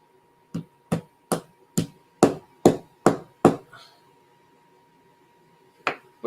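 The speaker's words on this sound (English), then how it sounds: "Hey, my little brass hammer." Eight sharp metallic taps from a small brass hammer strike in a steady rhythm, close by, then stop; after a pause of silence, one more tap lands.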